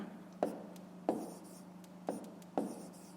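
Pen or pencil writing down a fifth-grade math answer on paper, four short scratchy strokes spaced about a second apart, quiet and close over a faint steady hum.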